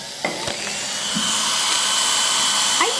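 A small high-speed rotary power tool whirs steadily up close while shaping wood or antler into buttons, a continuous whine with brief faint clicks and knocks of handling near the start and end.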